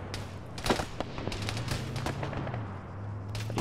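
Heavy gunfire and explosive blasts from an Arma 3 battle, a dense run of sharp cracks and booms over a continuous low rumble, loud and close, with no voices.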